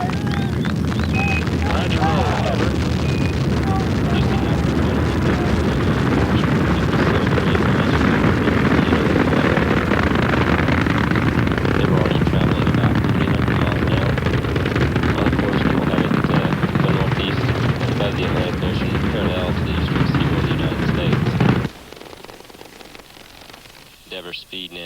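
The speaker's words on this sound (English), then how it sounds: "main engine start. 5, 4, 3, 2, 1, 0, and liftoff of the Space Shuttle Endeavour" Space Shuttle Endeavour lifting off, its main engines and boosters producing a loud, dense crackling roar that fills about twenty seconds before cutting off abruptly into quieter background.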